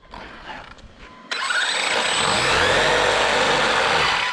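Arrma 4S V2 Kraton or Outcast RC car motor bursts into a loud, sustained high-pitched whine after a quieter start, holding steady as if the wheels spin freely, close by with no talking.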